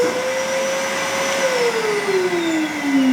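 A Henry vacuum cleaner motor drones loud and steady up close, its whine holding level and then gliding slightly lower in pitch, with no talking.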